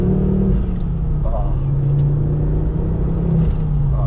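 Ford Focus ST2 engine with a low rumbling rev and a steady throaty drone, heard close up from inside the car while a voice talks over it.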